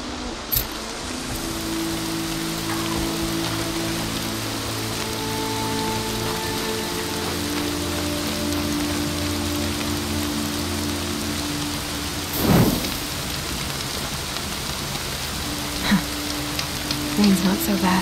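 Steady hiss of rain falling on surfaces in the video game Horizon Zero Dawn, with a low ambient hum underneath and a brief louder rumble midway, like distant thunder.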